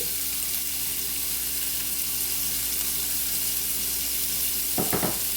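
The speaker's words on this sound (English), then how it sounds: "we are going to add 3/4 cup of onion" Chopped onion fries in a pan over medium-low heat for risotto, giving a steady close sizzle throughout, with a brief clatter of stirring near the end and no talking.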